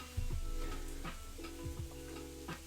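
Chopped onions and butternut squash sizzle in a pan with a soft steady frying hiss, punctuated by a few distinct clatters of a utensil stirring and scraping, close and fairly quiet with no talking.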